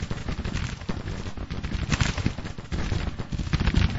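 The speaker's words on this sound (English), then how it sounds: "You can see them opening fire." Musket volleys crackle in the Civil War strategy game Grand Tactician, a dense continuous rattle of massed gunfire with rolling bursts and no pauses.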